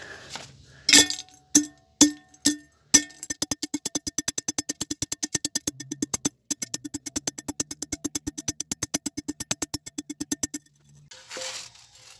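A used crucible melting dish is crushed during gold recovery: a few separate sharp clinks, then a long run of rapid, evenly spaced crunching taps. The tapping stops abruptly near the end.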